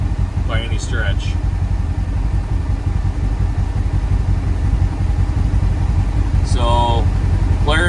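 A Polaris vehicle's engine idles with a steady low drone in cold, below-zero conditions, continuous throughout, while a person talks over it in two short bursts.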